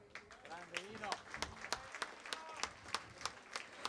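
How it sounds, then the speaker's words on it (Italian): A small audience claps for a musician at a folk music evening of filuzzi dance tunes; sparse, fairly rhythmic hand claps come through clearly, with voices talking over the start. "un grande applauso a Rino"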